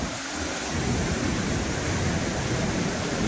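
Water pours from a waterfall near a cave, a loud, dense, unbroken rush that fills the air close by.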